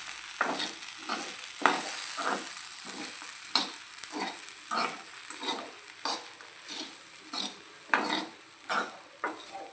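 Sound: stirring ugani mixture with salt in a pan

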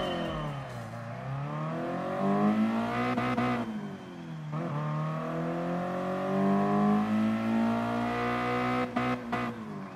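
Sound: car engine downshifting under braking in Gran Turismo Sport video game

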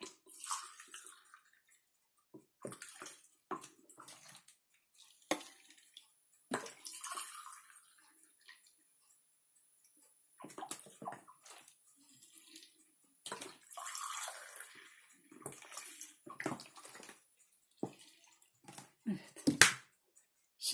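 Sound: pouring vinegar into pickle jars

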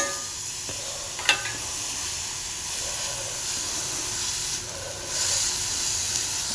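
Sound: carrots frying in pan for carrot payasam

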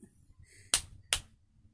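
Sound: hands clapping

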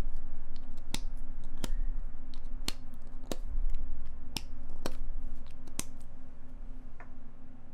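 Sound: chapstick being taken out

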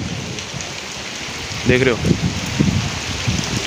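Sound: heavy rain falling during a storm

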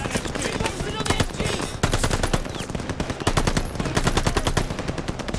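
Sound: machine gun firing in the video game Call of Duty: Vanguard

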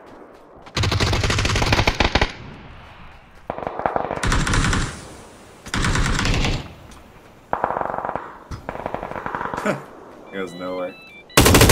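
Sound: gunfire in the video game PUBG

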